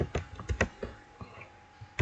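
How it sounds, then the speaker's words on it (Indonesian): Keys clatter on a computer keyboard while a network switch is being configured, a run of irregular close taps clustered in the first second, then a few scattered keystrokes. "jangan lupa kita ketikkan hostname"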